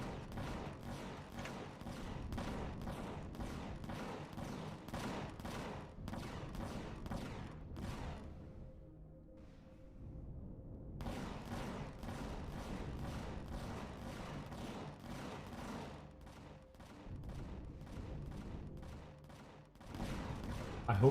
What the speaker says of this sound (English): I just sit here and snipe things like thrusters while the turrets do all the work